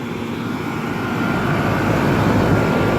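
Several 1996 Janitrol two-ton central air conditioner outdoor units with Bristol reciprocating compressors, running as a steady, loud, low drone and hum that swells slightly, with no talk.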